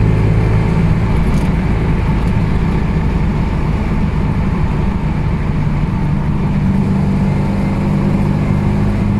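A 1969 Chevrolet Camaro Z28 V8 engine drones steadily while driving, heard from inside the car as a continuous loud low rumble with road noise and no break across the stretch.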